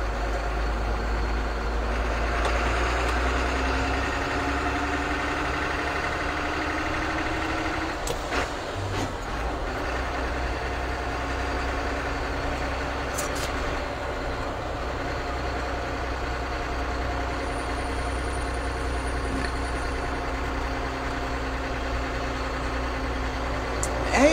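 A vehicle engine idles steadily with a low continuous rumble during a drive to work, holding a constant level throughout with brief faint clicks and rattles over it.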